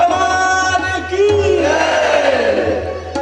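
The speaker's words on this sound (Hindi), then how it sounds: "जोर से जय घोष करेंगे।" A large crowd at a spiritual youth camp with a lamp-lighting fire ceremony in Chandrapur, Maharashtra, shouts a loud victory chant to Mahakal, swelling into a dense, rising roar of many voices close by.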